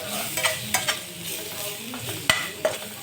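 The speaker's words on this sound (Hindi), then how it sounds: "अब सब मसाला के हल्का सा भूज ले हैं।" Ground spices like cumin and red chilli powder being roasted and stirred in a pan for besan sabji, a close steady sizzle broken by several scraping spoon strokes.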